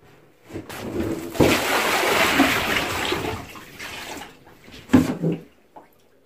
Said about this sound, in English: I gotta empty this bucket out of water